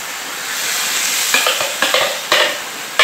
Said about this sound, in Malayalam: നമ്മൾ നേരത്തെ അടിച്ചിരിക്കുന്ന അരപ്പ് ചേർത്ത് കൂടാം